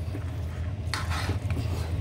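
A utensil scrapes and clinks against a cooking pot while sticky rice suman is stirred, with a few soft scraping strokes over a low steady background hum.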